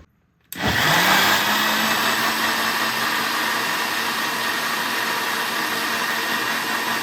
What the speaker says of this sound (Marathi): मी आता हे मिक्सरमधून फिरून घेऊया